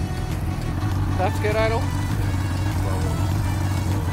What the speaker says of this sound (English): as soon as I started the boat, after I changed those float needles, I immediately knew.